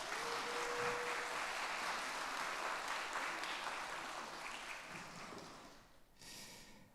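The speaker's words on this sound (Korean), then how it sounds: "우리 격려 박수 부탁드립니다" A church congregation at a Friday prayer meeting claps in encouragement. Soft, distant applause forms a continuous wash that gradually thins and fades, with a brief rustle near the end.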